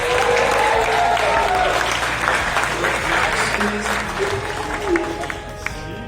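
A crowd at a live event in Singapore applauds and cheers loudly at first, the clapping gradually thinning out with scattered whoops as it fades.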